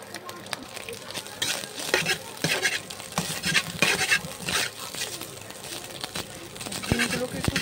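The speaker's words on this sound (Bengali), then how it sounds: "ডিম ফ্রাই করা হচ্ছে এখন, অর্থাৎ ডিম ভাজা হচ্ছে" Two eggs frying in a pan give a steady crackling sizzle, broken by repeated bursts of scraping and clattering from stirring and utensils on the pan.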